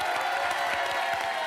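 A studio audience at a French television show applauds arriving guests, a steady dense wash of clapping with crowd noise and faint cheering, held at an even level throughout.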